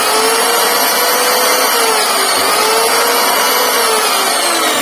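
Electric wood planer motor running at full speed, a loud, steady high-pitched whine with a dense roar that holds constant throughout, heard up close and alone.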